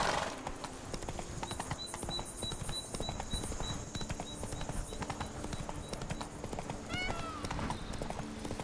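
Roach the horse in The Witcher 3: Blood and Wine, giving a steady clip-clop of hooves in a continuous rhythm under game ambience and music, with a brief whinny near the end.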